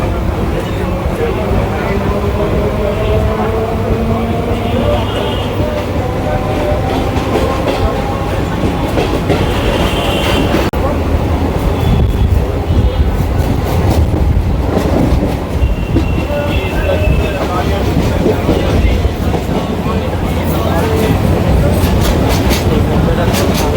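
A Sealdah to Howrah local train rolls along beside a metro line, its carriages rumbling loudly with a steady clickety-clack of wheels on rails and occasional squeals, while voices carry faintly inside.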